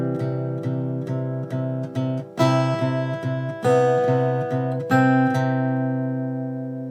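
Fingerstyle acoustic guitar playing the opening bar of a song, a steady picked eighth-note pattern over a moving bass line, with chord changes ringing clearly, the last chord left to fade out.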